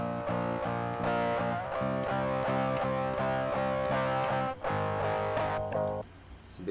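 A distorted electric guitar through a Double Dragon distortion pedal plays a chugging, rhythmic chord pattern with a gritty, crunchy edge, briefly pausing midway and trailing off into noise at the end.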